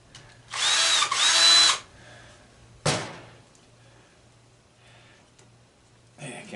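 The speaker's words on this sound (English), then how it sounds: "but turn real easy with the drill." A power drill whines in a short close burst as it backs bolts out of a scrapped electric motor, followed by a sharp metallic clank and a second brief whirr at the end.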